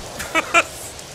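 Two short nasal duck quacks sound close together, clear and fairly loud against a quiet background.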